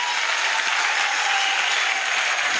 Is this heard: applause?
yes